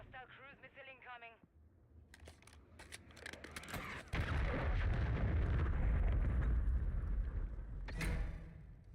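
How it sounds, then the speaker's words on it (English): A cruise missile strike in the video game Warzone lands as a deep, sustained explosive rumble that swells and rolls on for several seconds, preceded by a brief voice and scattered sharp cracks. "Hostile cruise missile incoming."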